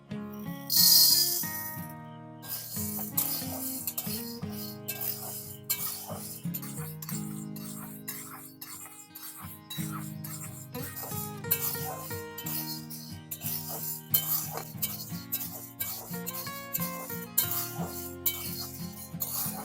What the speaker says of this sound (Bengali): কড়া গরম হয়ে গেছে এবার সাবুটা ভেজে নেব